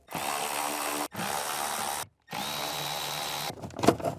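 Power drill or impact driver spinning a 7mm socket to remove cover bolts on a vehicle, three steady whirring bursts of about a second each separated by short pauses, close and loud, ending with a clatter.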